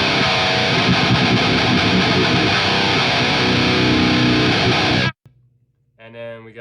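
A loud, heavily distorted electric guitar rhythm tone from a Quad Cortex amp modeler plays a dense rhythm part for about five seconds, then cuts off abruptly and a voice begins speaking.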